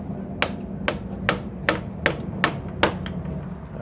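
Seven evenly spaced light knocks as the wooden end of a small hammer taps an engine bolt on a Grom clone motorcycle engine, close and crisp over low background hum.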